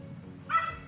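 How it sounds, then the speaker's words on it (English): A single short dog bark or yip rings out at moderate distance over a low background hum, in a home with several dogs. "All these dogs, I swear."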